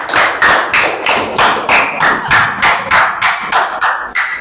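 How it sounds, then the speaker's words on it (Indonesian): Classroom applause rings out in about a dozen quick, regular claps, loud and close, with no talk over them. "Tepuk tangan."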